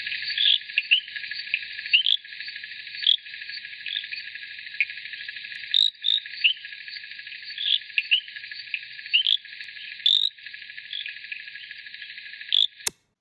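Recorded call of a small frog species described in 1981, a continuous cricket-like trilling chirp with brighter pulses scattered throughout, clear and steady, ending abruptly with a click, no voices.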